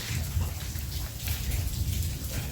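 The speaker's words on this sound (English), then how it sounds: "today it has really rained like crazy" Heavy rain, with hail reported, pours down in a village and keeps up a steady, dense hiss and patter on nearby surfaces with no break throughout.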